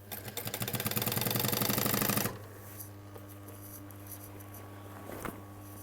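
A sewing machine stitches a half-inch seam in a heavy leather bike jacket, a rapid loud chatter for about two seconds, then stops, leaving a low motor hum and faint handling clicks.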